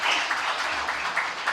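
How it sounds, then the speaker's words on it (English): Press conference audience giving a sustained round of applause, dense and fairly loud, continuous clapping with slight swells and no pauses. "Let's give ourselves a celebratory"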